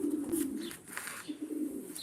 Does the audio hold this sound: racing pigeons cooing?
yes